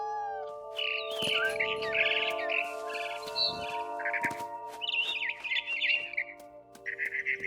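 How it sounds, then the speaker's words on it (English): A frightened barn swallow near its nest outside a window gives repeated sharp chirps and harsh squawks in quick irregular bursts, close and fairly loud, with no talk over them. "I tried to be quiet, but the bird was really scared."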